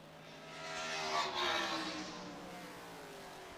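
A Trans Am TA2 race car passes during qualifying at Lime Rock, a circuit set in a valley of hills. The engine swells as it approaches, peaks around the middle, then fades into a lingering distant drone.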